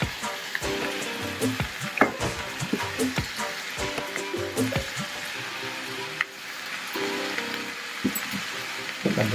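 Potatoes sizzle steadily in a pan of beef curry, a dense close frying crackle with intermittent clinks and stirring knocks throughout.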